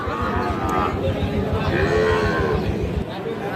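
A Sahiwal bull at a busy cattle market in Ghoraghat, Dinajpur, lets out a long, loud, close moo above steady crowd noise and nearby voices.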